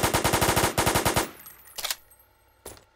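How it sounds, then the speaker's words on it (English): Gunfire in the video game Oil Warfare Tycoon: a rapid automatic burst of about a dozen sharp shots, loud and close, followed by two isolated single shots, with no talk. "I don't think it's the best gun to use, because, look at the recoil."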